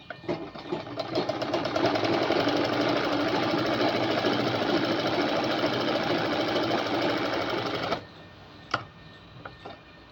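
A sewing machine runs in one long continuous burst, stitching a folded-over fabric edge and then stopping, leaving a few faint clicks and handling noises.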